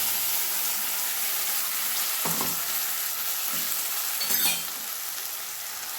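Ground spice paste for a Bengali charapona fish curry sizzles steadily in a hot pan, a close continuous frying crackle broken by a few scraping stirs of the spoon, with no talk.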